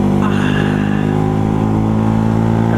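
A motorcycle with a suspected fault and a worn front shock is ridden along, its engine droning loud and steady close by, with no voices over it.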